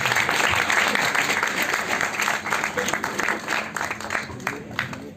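Audience applause for a poet at a stage event, with dense continuous clapping from a crowd throughout, loud and steady with some crowd noise.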